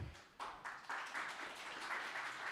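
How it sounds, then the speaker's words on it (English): Audience applause at a Ukraine EdTech Association event, a steady wash of many hands clapping that swells after a quieter start and holds at a fairly faint, distant level. "A round of applause once again,"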